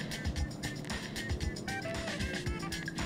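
A Peugeot 208 in sport mode, its engine note boosted by a sound resonator, gives a steady, fairly loud hum and drone heard from inside the car.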